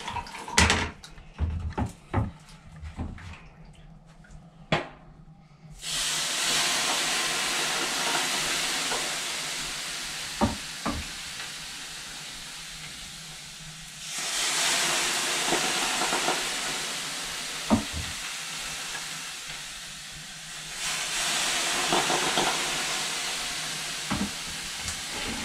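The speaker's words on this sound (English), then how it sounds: "Let's add a little more steam in here." Water thrown onto a Harvia 20 Pro wood-fired sauna stove bursts into loud steam hisses, three long surging waves after a run of sharp clicks and knocks, with scattered taps between them and no talk.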